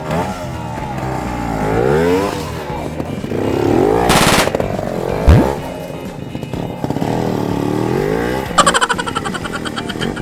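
Trial motorcycle engine at a classic trial competition revving in bursts, with throttle blips and rising and falling pitch, fairly close, mixed with spectator chatter.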